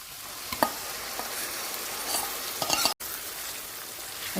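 Liver fries in a pan with a steady, soft sizzle throughout, while occasional light scrapes and taps from stirring break through; no one speaks.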